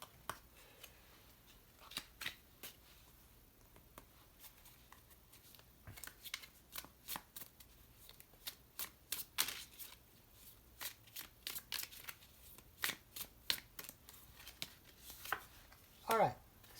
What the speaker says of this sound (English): there we go with my amazing shuffling tonight